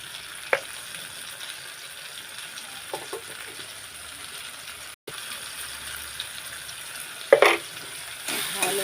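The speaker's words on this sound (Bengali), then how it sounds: "ভালো করে একটু নেড়ে দিই" Chopped tomato and green chilli fry in a pan with turmeric, salt, cumin and coriander. A low, steady sizzle runs throughout, broken by a few scraping stirs, with no talking.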